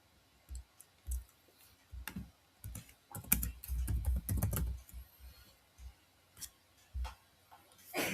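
Keystrokes on a computer keyboard as a username and password are entered, sparse clicks at first, then a dense burst of rapid typing midway before tapering back to scattered taps, close and fairly quiet with no voices.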